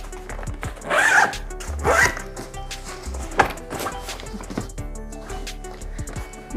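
A zipper closes on an IKEA storage bag with a few quick rasping pulls, close and clear, followed by softer handling and rustling of the bag.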